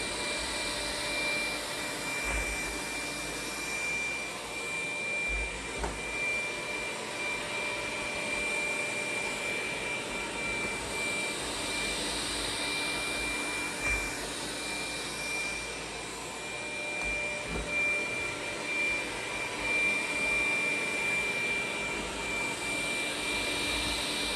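A Dreame Z10 Pro robot vacuum runs across spilled sand and cat litter with a steady, fairly close whirring hum and a high whine, broken by occasional faint ticks of grit, with no voices.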